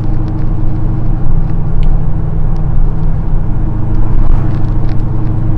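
Inside the cab of a 1978 Chevy C10 squarebody pickup on the move, the engine drones loud and steady with deep low rumble and harmonic hum, plus light rattles and ticks, with no talking.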